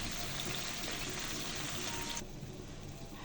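Sauce-brushed chicken shashlik fries in a pan on a stovetop, producing a dense, continuous close-up sizzle that drops noticeably in level partway through, with no voices.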